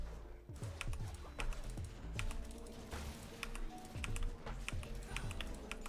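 Rapid keyboard clicks and mouse clicks during a League of Legends game, closely miked, with a steady, busy rhythm of sharp taps and a low game soundtrack underneath.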